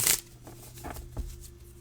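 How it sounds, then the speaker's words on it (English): Hands shuffling a tarot-style card deck, giving a quick riffling burst at the start followed by softer, scattered card flicks and rustles close to the listener, with no talking. "And then I will cut shuffle, and I am going to do that 6 card spread."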